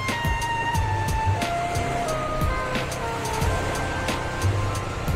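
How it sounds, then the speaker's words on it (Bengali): Sea surf at Bagda beach in West Bengal, a steady broad wash of breaking waves heard up close, with faint tonal hums and scattered background noises and no speech. "ঢেউও ভালো আছে"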